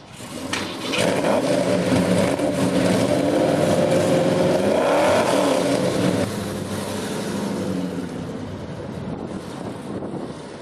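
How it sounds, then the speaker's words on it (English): A Ford Shelby GT500 with a 428 cubic-inch Cobra Jet engine backs onto a trailer, its engine rumbling loud and steady, then easing lower, mixed with wind noise. "Now this GT500 he's backing on now, this is a torquey son of a gun"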